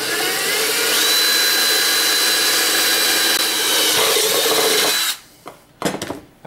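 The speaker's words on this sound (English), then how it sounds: "we're going to take a drill with a 1/2-inch drill bit, and we're going to go center of where we've marked out our circle on our can" A power drill with a 1/2-inch bit bores through a metal can, a loud, sustained whining grind for about five seconds, followed by silence and a few short bursts of clattering and handling noise.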